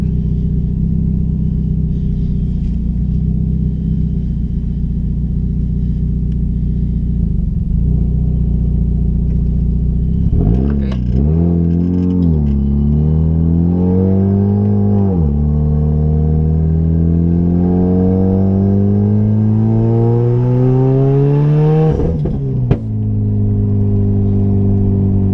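A modified Chevrolet Cruze engine rumbles loudly at idle, then revs up and down through several rising and falling sweeps before settling back, with a faint clattering tick from the lifters under the running engine.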